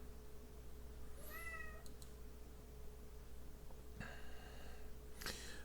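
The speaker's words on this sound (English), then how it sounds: "It's my cat in the background." Pet cat giving two faint meows in the background over a steady low hum, a few seconds apart.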